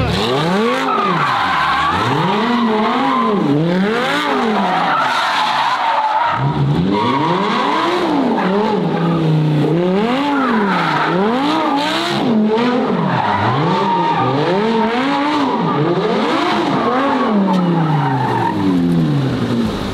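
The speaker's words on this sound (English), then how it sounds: "Let me just do a U-turn." A car, apparently a McLaren 720 GTR race car, makes a U-turn with its tires squealing and skidding loudly in repeated rising and falling sweeps while the engine revs, close by with no talking.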